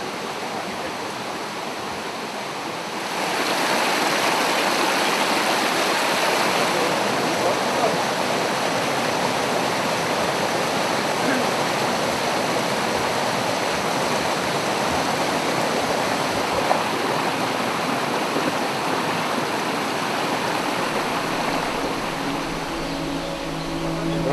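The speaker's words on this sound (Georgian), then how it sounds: "საამისოდ ისინი მონასტრიდან დასავლეთით ჩამონავალ კიკომინის ჩანჩქერს იყენებენ." Kikomini waterfall spilling down west of a monastery in mountainous Samegrelo, a steady broadband rush of falling water that swells after a few seconds and holds loud and continuous.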